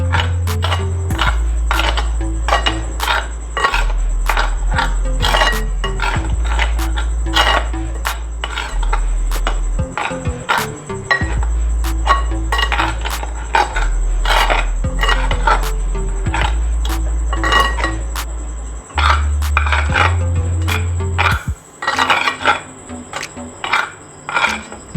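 Chicken pakora coating spices stirred in a bowl with a utensil, giving rapid, steady clinks and scrapes against the bowl close by, with a low background hum throughout.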